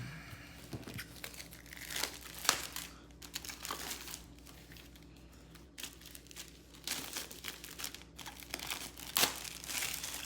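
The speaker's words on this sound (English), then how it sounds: "So let's peel this wrapper back." Cellophane wrapper peeled back from a cigar in a Joya de Nicaragua sampler collection, giving close crinkling and tearing with irregular bursts of rustle and a few sharper crackles over about ten seconds.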